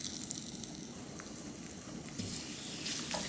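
Pumpkin pancake batter fries in a round pan with a steady, soft sizzle and crackle, close and fairly quiet, continuing without talk.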